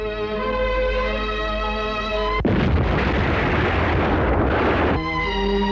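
A dense, loud burst of crackling firecrackers bursts out over a steady tonal music bed, lasting a few seconds before the music carries on alone.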